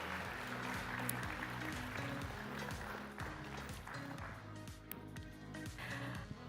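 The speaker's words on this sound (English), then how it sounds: "Can we give him a warm round of applause" A conference demo-day audience gives a warm round of applause for a departing pitch presenter, steady dense clapping sustained throughout at moderate distance, with a rhythmic low thumping pattern running underneath.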